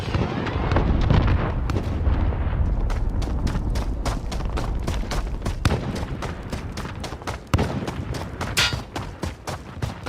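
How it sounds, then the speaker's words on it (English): Heavy combat in Call of Duty: Modern Warfare during an enemy cruise missile strike: a loud, dense barrage of explosions and rapid gunfire crackling continuously for about ten seconds, with a big rumbling impact early on. "Enemy cruise missile incoming."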